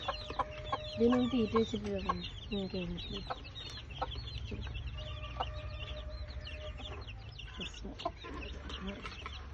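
Backyard chickens with chicks, including an orange hen, cluck and chatter continuously near and far, with a rooster crowing faintly as people talk over the flock.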